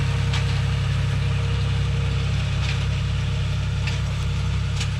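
A John Deere 5105 tractor's engine runs steadily in a farm field while pulling a 9-tine spring cultivator, a close, continuous drone with no break.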